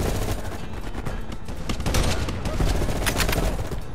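Rapid gunfire in the Call of Duty Black Ops Cold War shooter game, a dense, loud stream of automatic shots crackling continuously for several seconds.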